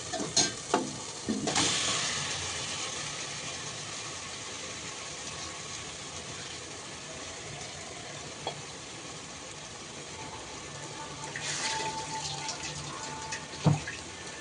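Chicken hits hot oil in a pan for Telangana-style gongura chicken curry. A loud initial sizzle settles into a steady, close frying hiss, with a few scrapes of stirring.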